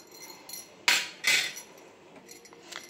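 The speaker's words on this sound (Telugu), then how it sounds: "చక్కెర వేసుకున్న తర్వాత ఒకసారి అయితే కలిపేసుకుందాము" A spoon stirring milk with added sugar in a pot on the stove, giving two distinct metallic scrapes and clinks near the middle amid quiet background, with a few faint taps afterward.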